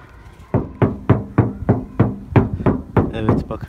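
Knuckles rap about ten times at a steady pace on the door panel of a Citroen C-Elysee, each knock sharp and close with a hollow resonance.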